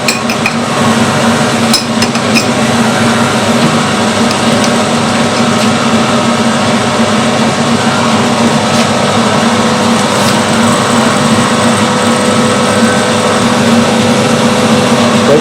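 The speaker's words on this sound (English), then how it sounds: "This is a tapping drill for 5mm." Continuous high-pitched machining whine with a steady drone, a CNC machine's 5mm tapping drill cutting cast iron, constant and loud throughout with a few faint clicks.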